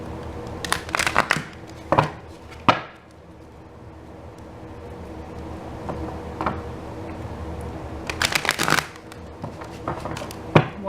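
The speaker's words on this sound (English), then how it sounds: "one more good shuffle." Crisp riffling bursts of tarot cards being shuffled, several quick flurries close by with quieter pauses between them.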